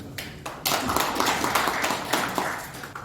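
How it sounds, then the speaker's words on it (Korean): Applause breaks out at a panel session on the Korean market economy, scattered claps swelling quickly into a fuller round that tapers off near the end. "박수"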